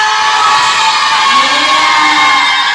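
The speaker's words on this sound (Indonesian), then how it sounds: "Tepuk tangan Ibu dengan Ibu Uli" A crowd of elementary school pupils at a student debate contest cheers and applauds the judges, a loud, dense, unbroken wash of clapping and shouting voices that lasts throughout.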